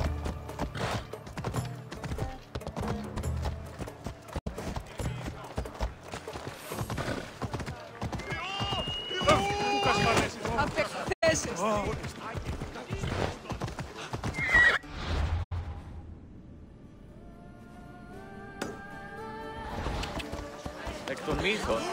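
Horses galloping in Assassin's Creed Odyssey, a steady run of hoof clip-clops with occasional whinnies under ongoing spoken dialogue and a musical score, fading to a quieter stretch near the end before picking up again.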